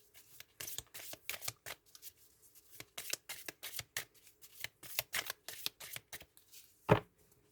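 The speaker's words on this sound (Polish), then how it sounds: "I wyciągnę dla Was jeszcze karty wyroczni na ten nowy rok." Tarot oracle cards are shuffled and drawn in a steady run of quick papery riffles and flicks, close and fairly quiet, ending in one sharper snap of a card near the end.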